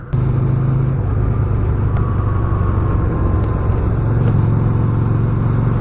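A motorcycle engine runs steadily after being bump-started by popping the clutch, a loud continuous low rumble throughout with no talk.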